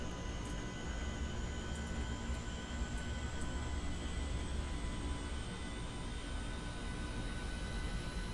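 Steady broadband roar of a Boeing 737-8 MAX airliner in a flight simulator, with a rising high whine running through it, loud and continuous for the whole stretch with no talking.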